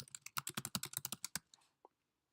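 Quick run of keystrokes on a computer keyboard as a card title is entered, about a dozen close, crisp clicks in a rapid burst, then a short pause and one final tap.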